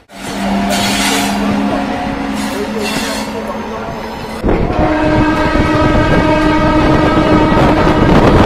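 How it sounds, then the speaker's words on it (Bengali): A new passenger train from Kolkata to Digha runs on rails past Dakshineswar with a loud, steady rumble, and a sustained horn joins partway through, heard from on board. "আর আমাদের ট্রেন কিন্তু ইতিমধ্যে দক্ষিণেশ্বর ঢুকে গেছে।"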